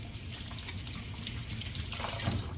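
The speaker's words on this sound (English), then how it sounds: "the next thing I'm gonna rinse my hands really quick" Tap water runs steadily into a sink while hands are rinsed, a continuous close splashing hiss with small shifts as the hands move under the stream.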